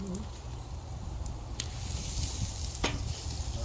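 Octopus skewers sizzling on a grill, a steady soft crackling hiss with a few sharper pops, fairly quiet and continuous.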